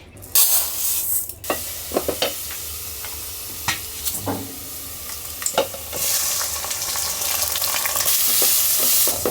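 Rice fries in a hot pan for a shortcut biryani, giving a steady loud sizzle broken by repeated scraping stirs and clinks of a spoon, close and with no voices.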